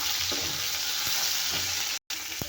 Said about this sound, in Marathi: तेलात भाजून घ्यायचे आहे टमाटे आणि चिंच